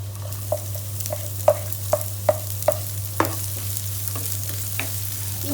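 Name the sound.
ginger garlic paste frying in pan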